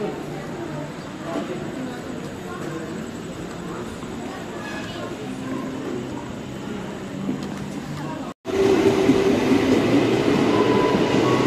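A light rail train runs through the LRT Jabodetabek Dukuh Atas station in Jakarta, a loud continuous rumble and rattle that cuts off briefly before a louder, brighter stretch of wheel noise.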